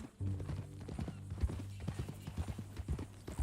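Horse hooves clip-clop at a walking pace in the Red Dead Redemption 2 video game, the uneven strikes close and clear beneath a low rumbling background.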